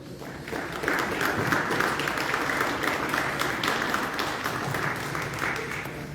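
An audience in the Pawnee Nation Roundhouse applauds James Black, sustained clapping from a crowd that rises quickly and holds steady for several seconds, fairly near and even.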